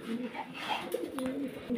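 Low, throaty coos of imported pigeons repeat in short rolling phrases, close by, with light rustling and a few faint clicks.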